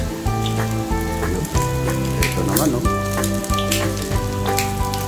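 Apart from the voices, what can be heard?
pork sisig sizzling in hot oil with ice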